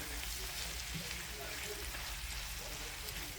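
Meat frying in a pan, a dense, even crackling sizzle that holds at a steady moderate level throughout, close by and without talk.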